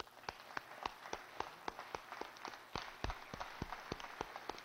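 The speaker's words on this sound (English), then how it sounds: "join me in a round of applause for our Capitol Police and state troopers" Scattered, sparse hand claps ring out in the Georgia House chamber as a round of applause, individual claps audible rather than a dense roar, fairly distant and soft.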